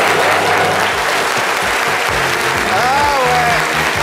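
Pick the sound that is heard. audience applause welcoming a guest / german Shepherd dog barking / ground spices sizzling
audience applause welcoming a guest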